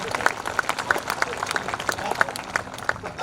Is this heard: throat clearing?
no